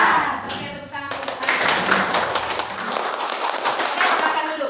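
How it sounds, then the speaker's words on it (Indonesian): Schoolchildren in an Indonesian classroom clap hands together in a dense, steady burst that fills the room, with voices mixed in around the clapping. "tepuk tangan dulu"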